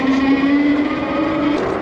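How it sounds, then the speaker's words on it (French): Tyres of a LANKELEISI MG800 MAX dual-motor e-bike roll over tarmac with a loud, steady road hiss and a tonal hum, close by and uninterrupted. "le bruit des pneus sur le goudron, c'est la bombe"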